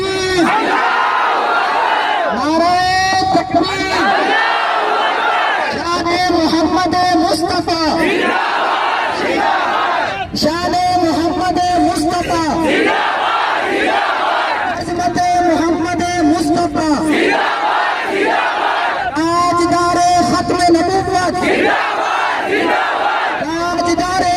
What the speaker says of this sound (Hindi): आपने सिर्फ जिंदाबाद के नारे लगाना है